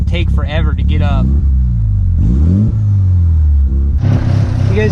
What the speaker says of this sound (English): I'm just giving it like half throttle, it's revving fine